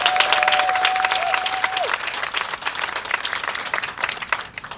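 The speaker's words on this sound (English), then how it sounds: "I'd like to give her a round of applause." An audience at an Emancipation Celebration event gives a round of applause, dense clapping that starts loud with a brief tonal whistle and slowly tapers off.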